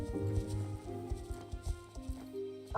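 A horse's hooves clip-clop at a walk while being ridden, irregular and fairly close, over a steady low background of tones.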